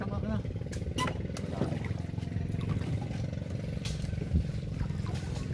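Fishing boat engine running steadily off Quezon, a loud rhythmic diesel chug with clattering, while people talk over it in short exchanges.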